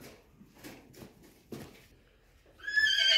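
A foal from an Orlov and Kyrgyz horse crossbreed gives a loud, close whinny at the end, preceded by a few soft hoof clops on the ground.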